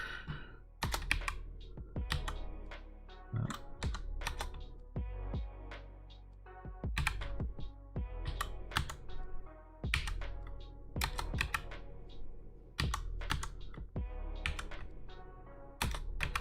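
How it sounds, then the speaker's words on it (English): Computer keyboard keys typed in quick bursts, often two strokes together followed by short pauses, giving an irregular rhythm of crisp, close clicks and clacks with no talking. "just make sure that the keys still work"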